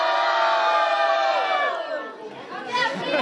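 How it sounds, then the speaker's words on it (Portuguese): A crowd at a Brazilian rap battle final cheers, shouts and whoops loudly and steadily, filling the whole stretch. The noise dips briefly near the end, then swells again. "Quem acha que a VK foi mais criativa no terceiro, faz barulho"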